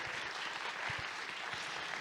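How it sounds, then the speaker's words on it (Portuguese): Restaurant-industry audience at a trends event gives a round of steady, even applause, many hands clapping continuously at moderate distance and fairly quiet, with no voices over it. "uma salva de palmas, por favor"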